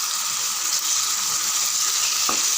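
Onion, tomato and garlic sautéing in a pan for poondu kara kuzhambu, a steady bright sizzle and crackle of frying oil, close and continuous with a faint clink near the end.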